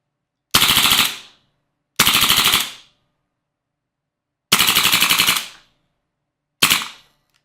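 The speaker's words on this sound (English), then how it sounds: "Okay, and now let's go full auto." An Elite Force Umarex KWA HK416D gas blowback airsoft rifle fires four close, loud full-auto bursts, each a rapid mechanical rattle of shots, separated by silent pauses, with the last burst cut short.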